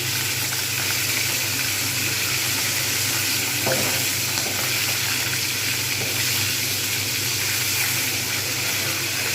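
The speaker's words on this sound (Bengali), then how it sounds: "এই কটা ভালো করে ভেজে নেবো এপিট ওপিট করে" Pieces of rohu fish fry in a pan with a loud, dense, unbroken sizzle, close and steady, with a brief scrape partway through.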